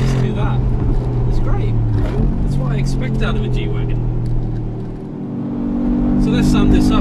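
A Mercedes-AMG G63 G-Wagon upgraded to a 700 brake horsepower Urban Design G700, in Sport Plus mode, roars loudly under hard acceleration with a deep, rising engine note while someone talks over it.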